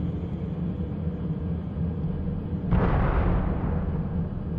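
A single explosion in a video game bursts in suddenly over a low steady rumble, then decays slowly into a lingering roar.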